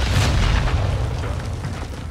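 Bombs exploding in a video game, a dense, heavy rumbling boom that rolls on for about two seconds, loud and close.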